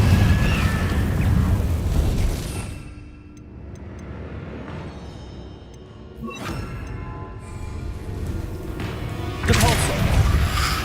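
Fire spell (Incendio) blasts in a wizarding video game, loud booming explosive bursts at the start, around six seconds and near the end, with quieter crackling rumble between.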